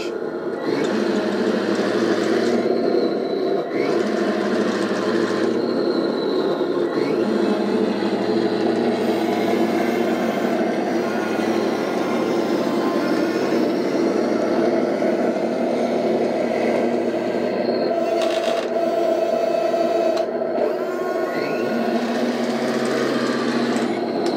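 A sound module in a Heng Long RC tank plays a T-90 tank engine sound, a continuous buzzy electronic engine drone with a few brief shifts in tone, loud and close, with no voices.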